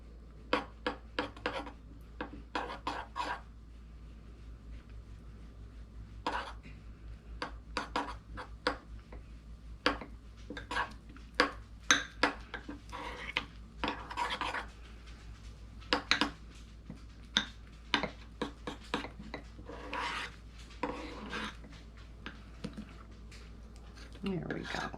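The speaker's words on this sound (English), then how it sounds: "I'm just going to mix this cocoa in." A spoon stirs cocoa into baked oats in a dish, making frequent light clinks and scrapes against the container in irregular bursts, with soft squishy mixing noises between them over a quiet background.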